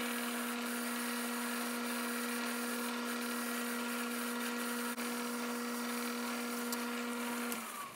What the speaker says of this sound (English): We're going to center drill and drill with a letter F drill the 4 holes